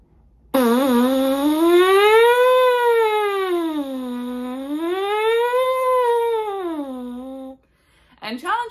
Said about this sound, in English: let's do some roller coasters or sirens and just keep bending that pitch up and down on the mouthpiece